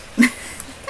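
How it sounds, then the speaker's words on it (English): A short dog bark or yip from a dog in Genshin Impact, a single brief call followed by a fainter second sound, fairly close over a quiet game background. "Oh, you're such a good doggy."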